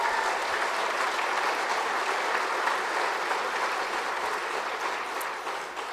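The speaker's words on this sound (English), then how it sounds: "So round of applause." Audience applause at an Alberta independence talk in Morinville, sustained even clapping from a roomful of people that tapers slightly toward the end.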